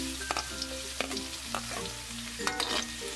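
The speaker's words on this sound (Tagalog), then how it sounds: "Tapos ay igigisa po natin yung ating luya." Ginger and garlic sizzle in hot oil in a pan for chicken feet adobo, a steady close fry broken by several sharp scrapes and clacks of a stirring spoon, with no voices.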